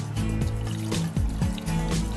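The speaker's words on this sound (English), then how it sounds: "we'll add water" Water poured into a cooking pot for tinolang isda, onions already added, in a small condo kitchen: a steady, continuous pour with a low, hollow filling tone running through the whole short stretch, no talking.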